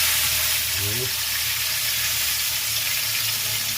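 Bangus (milkfish) frying in hot oil, a steady, loud hiss and crackle of sizzling that runs unbroken throughout, with a brief low sound near the start.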